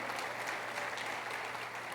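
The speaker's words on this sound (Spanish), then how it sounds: "Dale un aplauso a esa palabra" A church congregation applauds during a Christian sermon, a steady wash of many hands clapping at a constant level throughout, with a low hum beneath.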